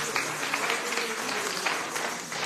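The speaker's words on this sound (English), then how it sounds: "Let's give Auntie Doll a round of applause" An audience at a birthday celebration applauds after a song, moderately quiet, steady clapping that continues throughout with slight swells.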